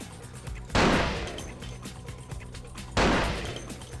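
An enemy fires at the player in the vampire game Vampire the Masquerade - Bloodlines: two loud, sharp gunshots about two seconds apart, each ringing out in a long decaying tail.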